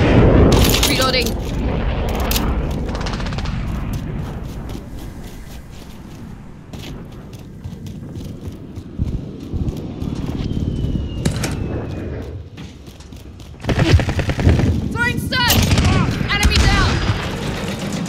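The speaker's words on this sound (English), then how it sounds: "We're taking some fire." Gunfire in the video game Call of Duty Modern Warfare during team deathmatch play: loud bursts of rapid shots and booms, easing off in the middle and returning in heavy volleys, with voice radio chatter mixed in.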